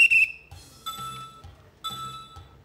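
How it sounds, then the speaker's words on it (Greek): A game show host gives a short, shrill whistle blast to start the timer in a Greek Wheel of Fortune studio, followed by bright chiming, ringing tones that repeat over a quiet background. "Ο χρόνος ξεκινάει με το σφύριγμα μου"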